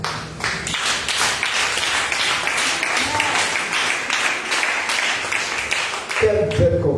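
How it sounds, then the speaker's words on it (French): A church congregation applauds in a sustained, dense wash of clapping that holds steady, with voices mixed in and a louder burst near the end. "Acclame le Seigneur pour toi"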